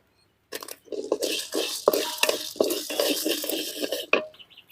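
Chana dal and dried red chillies roasting in a pan for shallot-spinach chutney in a village kitchen, heard as rattly scraping and clinking stirs with soft sizzle, irregular and fairly close.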